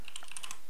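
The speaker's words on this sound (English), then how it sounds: "just type in pastebin.com" A short burst of keystrokes on a computer keyboard, about seven quick, close clicks in an even rhythm, typed into a browser tab with no voices.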